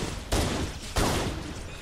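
Two loud, booming gunshots fire about two-thirds of a second apart in Halo: Combat Evolved, each leaving a rumbling tail.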